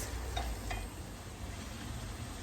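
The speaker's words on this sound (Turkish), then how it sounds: "Şimdi hepsini birlikte tekrar kavuruyoruz." Tomatoes and pepper paste sauté in a pan with mushrooms, a soft, steady sizzle with a couple of faint clinks from stirring early on, quiet and close.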